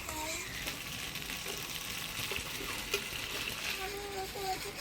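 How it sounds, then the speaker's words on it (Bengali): Mutton and fried potatoes stir-fried together in a pan with fried spices give a steady sizzle and soft, spattering scrapes, while faint voices murmur underneath. "মাংসটা ভাজা মশলা দিয়ে কষাই নিলাম এবার ভাজা রাখা আলু দিয়ে আর একটু কষাই নিব"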